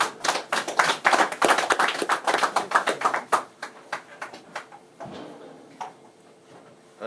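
An audience at a seniors' lecture gathering applauding to welcome the speaker: a brisk burst of many hands clapping that thins out into scattered, fading claps.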